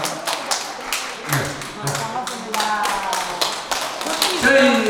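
An audience claps to welcome a singer at an outdoor rail-art performance, a brisk scattered patter of hands with some talk over it.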